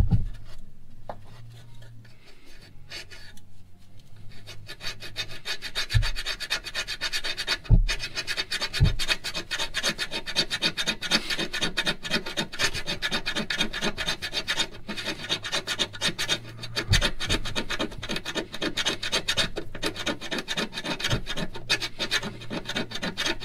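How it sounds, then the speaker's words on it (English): A self-tapping screw is driven into metal for a trailer wiring ground, giving a steady grinding, rasping scrape that runs nearly continuously at close range with a few sharp knocks mixed in. "I have a self-tapping screw, and just gonna find a good ground, connect that"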